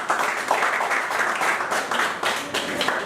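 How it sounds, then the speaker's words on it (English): An audience at a business hangout event claps steadily in a dense, moderately loud burst lasting a few seconds. "let's give a Millennial Hangout clap"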